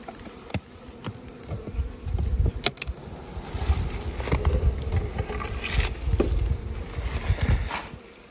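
Honeybees buzzing thickly around crowded, overflowing hives in an apiary, a steady close swarm drone with individual bees zipping past the listener now and then, no voices.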